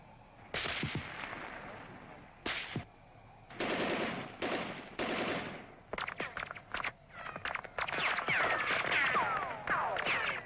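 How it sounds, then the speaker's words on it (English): Machine gun fire from a protected guard position at a perimeter barrier, rapid loud bursts crackling in repeated volleys with short gaps, growing denser and more continuous toward the end. "the 2 terrorists are eliminated by machine gun fire from the protected guard position."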